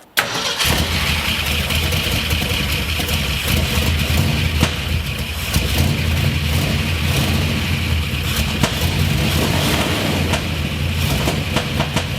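1970 Ford F100 Ranger with a freshly cleaned carburetor cranks briefly and catches, then settles into a steady, rough, rumbling idle that runs on loud and close with no talk.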